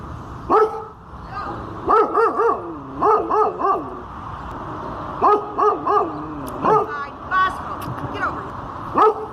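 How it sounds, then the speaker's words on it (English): A big loose dog barks loudly in repeated bursts of two or three barks at close range outdoors, with pauses between the volleys. "somebody opened their door and the dog went bounding out and came and barked at me"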